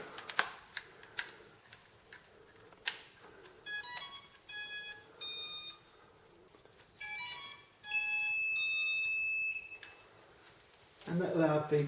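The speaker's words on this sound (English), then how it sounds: "that loud beep tells me that it's bound" A Red Bugs 3 drone gives a loud electronic beep on binding, heard among several short, clear tonal beep bursts with a few clicks and handling noises in between.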